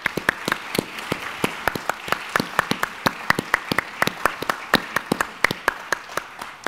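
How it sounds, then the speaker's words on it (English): Scattered audience applause for educators at an invention panel event, a sparse crowd of distinct individual claps with irregular rhythm, fairly close and moderately loud, with no talk over it. "I'd love to just give a round of applause to our educators who are out in the audience one more time"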